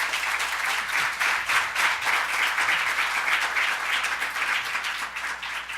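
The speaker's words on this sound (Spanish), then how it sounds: "Les pido un aplauso para ella, por favor." Audience applause at a public forum on children's and adolescents' participation in public policy, dense steady clapping from a seated crowd, sustained and even at moderate loudness.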